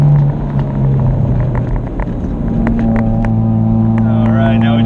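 A 2016 Chevrolet Camaro's engine hums and rumbles steadily as it pulls in third gear from inside the cabin, with road noise and someone talking over it.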